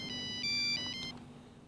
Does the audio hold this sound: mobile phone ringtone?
yes